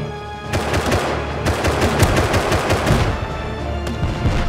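Rapid, loud bursts of weapon fire in the survival game Rust, where a grenade launcher is used; dense repeated blasts crowd the clip after a short quieter lead-in, with no talking.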